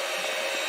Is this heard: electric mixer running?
yes